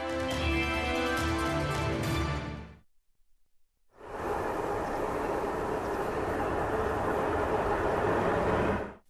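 The Doğu Ekspresi passenger train running on rails in eastern Turkey: a dense, steady rumbling roar cut by a brief quiet gap, then resuming just as loud.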